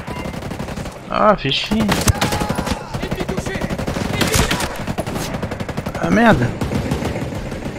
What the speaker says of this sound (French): Ah merde, c'est en sniper ça.